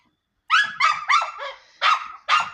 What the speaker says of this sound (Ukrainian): оце ж на нього собака гавкає